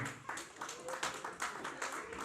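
Office New Year and birthday party audience clapping, a scattered quiet round of hand claps with uneven rhythm, somewhat distant, over low room murmur.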